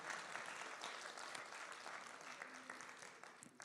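Audience applause for Jack Deere at a Chinese zither concert, a steady spread of hand claps that holds fairly constant for a few seconds before thinning slightly at the end.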